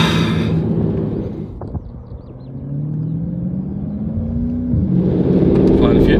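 A 1300 PS Mercedes W205 C63 with GAD Motors 4MATIC+ tuning revs hard, a loud deep engine roar that rises through a long pull and then surges again, with some talking in the cabin.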